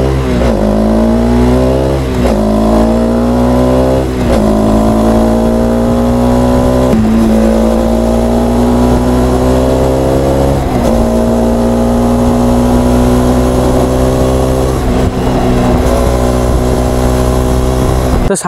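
Hero Centennial limited-edition motorcycle with an Akrapovic exhaust and catalytic converter, revved hard toward 8,500 RPM: loud, close engine roar climbing in pitch through several repeated rev runs, with no talking.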